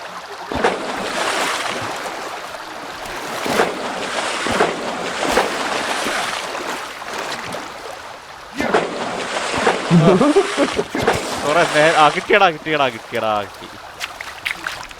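Water sloshes and splashes in a steady, washing rush with occasional surges in the video game Sons of the Forest, while a voice talks over it and electronic tones chirp near the end.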